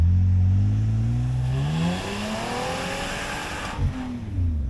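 A vehicle engine revs hard in deep snow, pitch climbing then dropping and rising again, loud and close, with a brief thump near the end.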